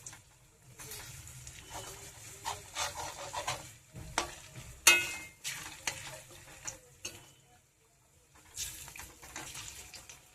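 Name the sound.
puri-style snacks frying in hot oil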